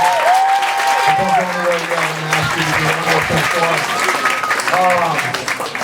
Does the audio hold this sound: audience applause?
yes